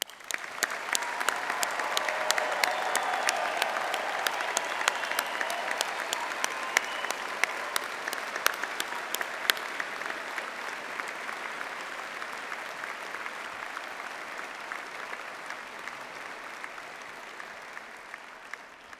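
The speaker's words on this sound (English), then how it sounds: "please join us in giving all recipients of awards and prizes a final round of applause" Sustained applause from a graduation ceremony audience honouring award and prize recipients, a dense, steady clatter of many hands lasting throughout with sharp individual claps standing out, fading slightly toward the end.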